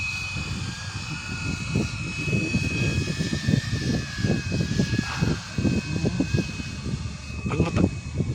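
An EC 145 scale model helicopter flies over UP Field, its rotor giving a steady throbbing whine with a sustained high tone, close and moderately loud throughout.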